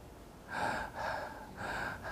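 Heavy breathing is heard close up, three or four slow inhale and exhale cycles with an airy, gasping texture, alone with no talk.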